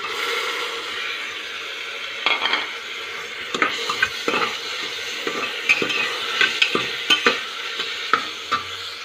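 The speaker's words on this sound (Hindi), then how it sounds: "अब इसमें टमाटर डाल के हम इसे अच्छे से भून लेंगे।" Tomatoes being stirred and fried in a pan for a cluster bean and dry prawn sabji, a loud close sizzle under repeated clattering spoon strokes against the pan, no speech.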